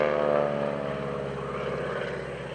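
A Stearman biplane droning through aerobatics at an airshow, its radial engine and propeller giving a loud, steady buzzing tone that slowly shifts in pitch as the plane manoeuvres, fading slightly toward the end.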